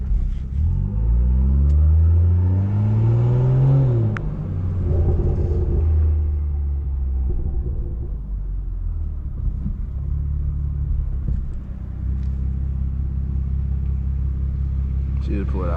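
A BMW 340i with a big turbo and straight-pipe exhaust rumbles loudly from inside the car, a deep engine drone that swells in a rising rev early on, then settles into a steady low cruise.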